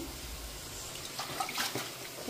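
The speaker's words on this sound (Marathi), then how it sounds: "आता पाण्यातून धुवून घेते 1-2 पाण्यातून" Leaves are washed in water, giving faint splashing and trickling with a few soft sloshes near the middle, quiet and close.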